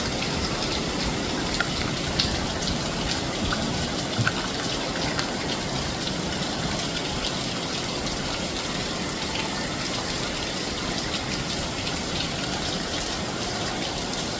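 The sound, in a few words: heavy rain and running water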